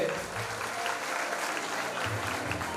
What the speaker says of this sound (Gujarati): જોરદાર તાળીના નાદથી બોલાવશું આપણે